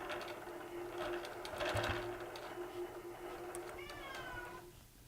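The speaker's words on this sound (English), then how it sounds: "And that's my cat," A pet cat meows for attention beside a sewing machine during quilt piecing, a short tonal cry near the end over the steady mechanical hum of the machine.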